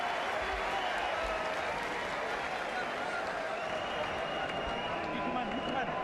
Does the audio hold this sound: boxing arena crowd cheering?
yes